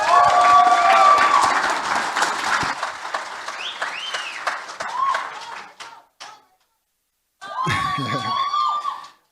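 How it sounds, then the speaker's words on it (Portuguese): Audience applause welcoming a speaker onto the stage at a talk, a dense burst of clapping that is loudest at the start, then thins out and fades, followed by a short pause and some voices. "Salva de palmas."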